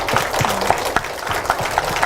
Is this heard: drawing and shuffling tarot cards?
no